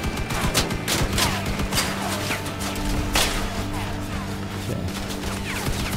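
Spectre-2 machine gun in the vehicle combat game Crossout firing loud, dense bursts of rapid shots amid crashes and battle noise, steady throughout with no pauses.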